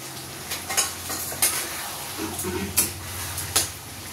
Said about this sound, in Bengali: আর এদিকে চিকেন কষাটা হচ্ছে, সুন্দর একটা কালার এসছে, চিকেন কষা হচ্ছে।